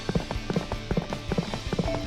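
Quick galloping hoof clops from a giant horse in Fate/Grand Order, a steady rhythmic run of hoofbeats heard close and clear with no talking over it.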